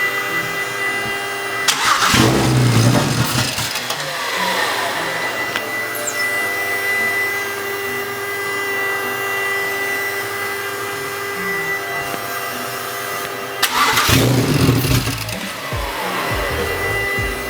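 BMW 135i fitted with a single turbo kit and new motor, running steadily at close range, with two louder rough bursts of engine noise near the start and near the end over a constant hum.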